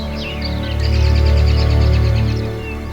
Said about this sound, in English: All the cricks, croaks, and clatter of bugs and birds serenade the rising sun.